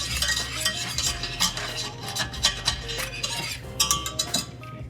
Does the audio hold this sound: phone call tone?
no